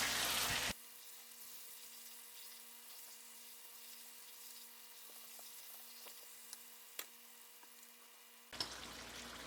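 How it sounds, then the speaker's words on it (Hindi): Chicken with korma masala is roasted in a pan over a medium-high flame for chicken korma biryani, giving a steady, even sizzling hiss with a faint low hum underneath. "10 से 15 मिनट चिकन की भुनाई करें।"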